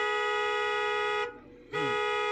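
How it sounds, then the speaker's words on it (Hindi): A car horn blares in one long steady tone, loud and close, then cuts off abruptly, during a driving lesson in heavy city traffic. "और लंबा हॉर्न मारो एक।"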